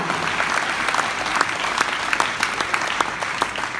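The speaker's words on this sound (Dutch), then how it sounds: "Dames en heren, geef ze nog een daverend applaus." Sustained applause from a large audience at a sports awards ceremony, dense steady clapping throughout.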